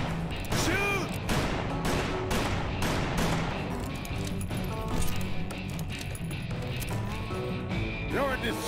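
Steady volleys of gunfire crackle through a Call of Juarez: Bound in Blood scene, with repeated overlapping shots and sharp impacts at an even loudness and voices mixed in.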